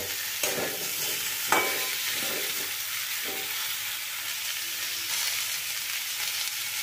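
Tilapia fish curry masala with turmeric is stirred on a low flame, a soft continuous sizzle broken by several distinct scraping strokes of a spatula in the pan, close by and alone.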